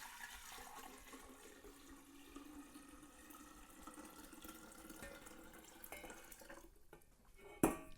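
Liquid poured into a jar while brewing a batch of kombucha, a steady soft trickle running for several seconds, quiet and close, ending in a brief louder splash or clink near the end.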